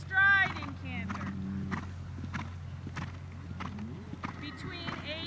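A horse canters during a dressage test, its soft hoofbeats thudding rhythmically on the arena surface, faint and somewhat distant, while a voice briefly calls out near the start.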